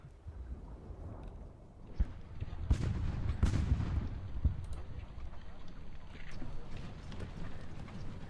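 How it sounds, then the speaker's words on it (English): Artillery fire in an Ultimate Admiralty land battle in a British campaign: a series of deep booms, the strongest around the middle, set against continuous battle rumble. "We've got artillery here,"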